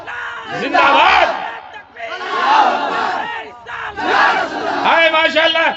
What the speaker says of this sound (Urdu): یہ نوجوان بہت اچھا نعرہ لگایا